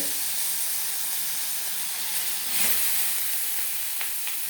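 Eggplant pieces dropped into hot oil in a pan fry with a steady, loud broadband sizzle, swelling briefly as they settle, with no voices.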